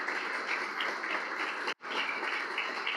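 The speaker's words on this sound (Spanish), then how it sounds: "Dale un aplauso al Señor esta mañana." A church congregation at a Sunday morning service claps in soft, steady applause, fairly distant and faint, with one brief dropout partway through.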